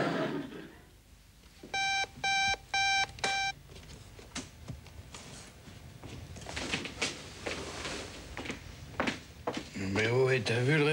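An alarm clock at 6 a.m. in a French sitcom gives four quick bursts of electronic beeping, followed by people talking amid rustling and knocks.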